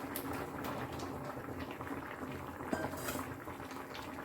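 Fried bitter gourd, bori and eggplant are stirred into a pot of boiled shukto vegetables, with a soft continuous bubbling and scattered light scrapes and clinks of a utensil against the pot, and no voices.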